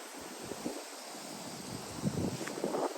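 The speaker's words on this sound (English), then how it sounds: "And it's very, very windy." Gusty wind blows across a garden of brassica beds in November, a soft continuous rush with a few stronger surges and faint rustling, no voices.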